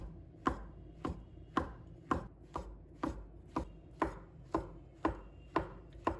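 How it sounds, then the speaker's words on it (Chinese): A knife slices shiitake mushrooms on a cutting board in a steady series of about eleven crisp, close knocks at an even, unhurried rhythm, with no voices. "把它切成片。"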